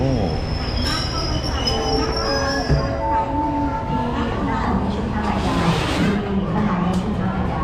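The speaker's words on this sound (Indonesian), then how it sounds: "Ini adalah kereta api" Thai passenger train travelling from Hat Yai to Bangkok, heard from the rear carriage as a steady rumble with wheel squeal and metallic screeching tones, while people talk over it throughout.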